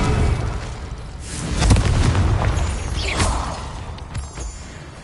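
Confringo, an explosive spell cast in Hogwarts Legacy, bursts with booming blasts and whooshing swipes across several seconds, one louder boom standing out near the middle.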